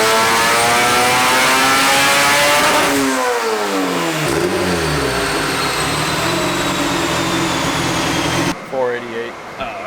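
Fully built LS VTEC Honda Civic engine revving hard on a dyno, a loud sustained high-rpm pull with rising and falling harmonics, then a sharp lift-off and a brief drop as the revs fall away near the end.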